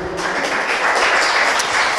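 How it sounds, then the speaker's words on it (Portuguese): A church congregation claps together during a worship service, a dense, steady patter of applause filling the room for a couple of seconds. "Será que você pode aplaudir o nome do Senhor?"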